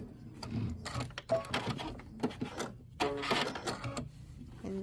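A sewing machine stitches quilt pieces in short, quick bursts of mechanical rattling, stopping and starting with brief pauses between runs.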